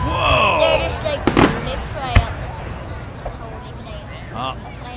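Canada Day fireworks over Columbia Lake burst with a few sharp bangs and crackles, one loud thump standing out, amid excited crowd voices and chatter throughout.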